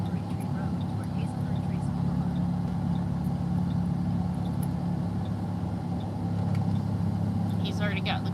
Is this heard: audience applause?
no